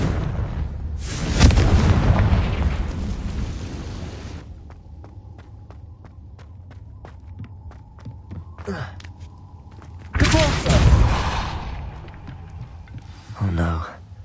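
A blasting-spell explosion in the video game Hogwarts Legacy, a loud booming burst that fades into a low hum and sparse ticks, then a second heavy blast, with a voice speaking near the end.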